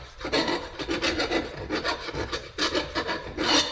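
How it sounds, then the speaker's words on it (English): Hand sanding inside a steering cylinder of an 1855 tractor to remove a burr, a dry abrasive rubbing in steady back-and-forth strokes, close and fairly loud, with no talk. "Little sanding just to make sure there ain't any rough spots."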